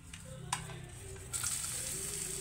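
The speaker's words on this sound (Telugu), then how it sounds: "వెల్లుల్లి వేగుతుండగా మిగిలిన వేసేద్దాం." Garlic, cumin, dried red chillies, mustard seeds and urad dal frying in hot oil as tempering for radish sambar, a steady soft sizzle with a brief clatter midway and a brighter, louder crackle near the end.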